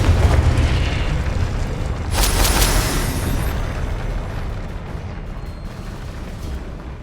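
A Confringo fire-blast spell explodes during a Hogwarts Legacy duel trial, a loud burst with a bright crackling flare that settles into a fading low rumble, with no talking.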